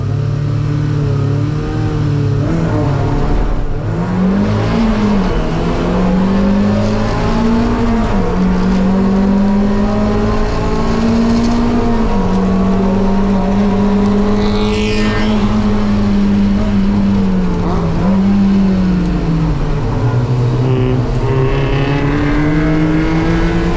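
Race cars roar away at the start of a race, one loud engine close by revving hard and climbing through repeated gear changes, with a continuous dense field of other engines all around.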